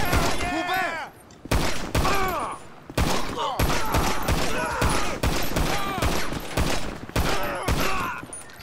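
Bursts of gunfire from a pistol in GTA V, with repeated sharp shots and volleys recurring through the clip, loud and close, over game sound and intermittent voices.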